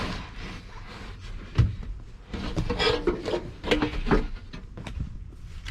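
Manual window glass on a first-generation Dodge scraping and rubbing as it slides down into the door, a close, rough grinding with a sharp knock partway through and uneven dragging after it.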